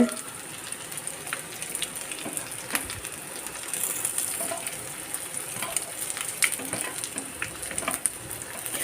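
Paneer pakoda deep-frying in oil on a low flame, a constant fine crackling sizzle with occasional light metallic clicks from a utensil, close and moderately loud, no talking.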